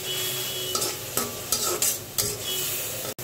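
A spice paste with crushed garlic sizzles loudly in a pan while a spoon stirs it in a few quick scraping strokes, ending in a sharp knock, with no talking.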